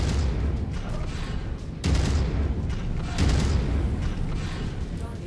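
Missile explosions in MechWarrior 5, two heavy booming impacts a little over a second apart amid rumbling battle noise, loud and close, with voices partly over it.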